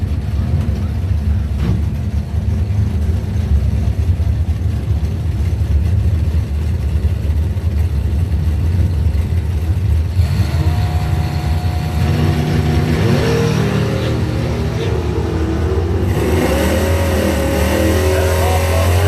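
A doorslammer drag racing truck at a drag strip qualifying session roars loudly and steadily for the whole stretch, and its engine note rises and shifts as it launches and accelerates.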